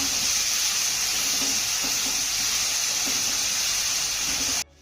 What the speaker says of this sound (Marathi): यामध्ये आपल्याला एक बारीक चिरलेला कांदा घालायचा आहे त्यानंतर हा कांदा आपल्याला मौसूद होईपर्यंत छान परतून घ्यायचा आहे